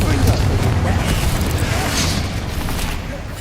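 A dense, rumbling blast from the Confringo explosion spell in the Hogwarts Legacy video game, loud and sustained with a booming low end and crackling debris, mixed with game effects and a shouted voice.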